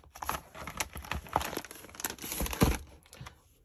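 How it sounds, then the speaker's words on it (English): Crinkly peeling and tearing of a fragile sticker being pulled from its backing for a shipping package, close and crisp, a continuous rustle with a sharper rip near the end. "Then I'm going to take a fragile sticker."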